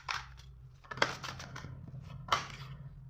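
Tarot cards being shuffled by hand, giving quiet papery riffles and soft snapping bursts in two or three short bouts, close up with no talking.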